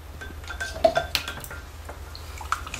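Glycerin soap mixture stirred in a container, with a handful of light clinks and taps of a utensil against the vessel, close and intermittent over quiet background.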